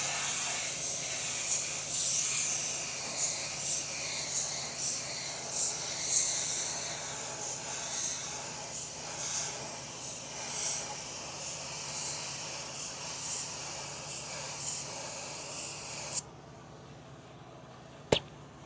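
A repaired Mustang Mach-E wheel is spray painted with the tire masked off, giving a long steady hiss broken by short pulsing bursts. It cuts off sharply near the end and is followed by a single faint click.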